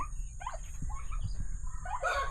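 Chickens clucking in a backyard in rural Thailand, with fields nearby, giving short irregular calls at moderate distance over a steady low outdoor rumble.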